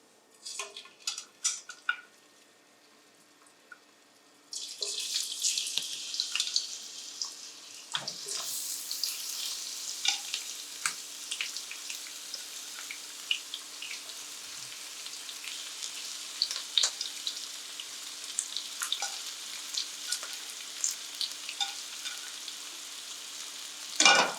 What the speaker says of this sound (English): I'm gonna add 2 tablespoons of oil here, right here. And here I'm adding the onions.